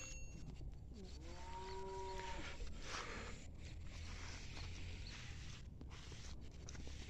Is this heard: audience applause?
no